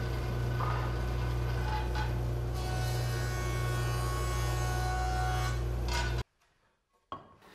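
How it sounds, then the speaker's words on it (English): Mahogany lumber being milled on a woodworking machine, a steady loud droning hum with rough cutting noise that runs for about six seconds before abruptly cutting off, followed by a brief knock. "I'm just milling up some lumber for the top."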